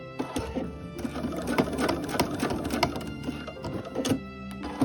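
A sewing machine stitching a seam on a tote bag, a steady close mechanical whir with fast rhythmic needle clatter running throughout and small ticks as the fabric is guided, with no voices.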